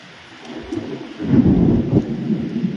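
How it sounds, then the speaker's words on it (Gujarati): Thunder rolls in a low, rumbling swell during a summer rainstorm in the Okha Mandal area near Dwarka, swelling loud and close over steady rain and wind. "આ વીજ ગાજના અવાજ પણ સાંભળી શકતા હશો"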